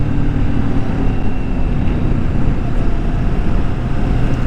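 A 2022 Kawasaki Vulcan S motorcycle rumbles along while being ridden, a steady low engine and exhaust drone mixed with wind and road noise, loud and unbroken.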